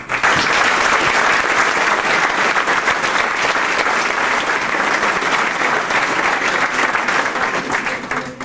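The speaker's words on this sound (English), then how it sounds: "Give you all a little round of applause." A banquet crowd at a 1995 San Jose Kart Club and IKF awards dinner claps steadily and loudly for several seconds, a dense sustained round of applause without speech.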